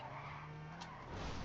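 A car drifting in GTA 5 gives a sustained tire skid that holds steady near and loud, swelling toward the end.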